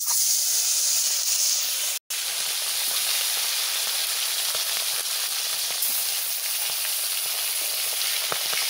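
Tilapia fish frying in hot oil, a loud, steady sizzle and hiss that runs continuously with crackling pops and one momentary cut near the start.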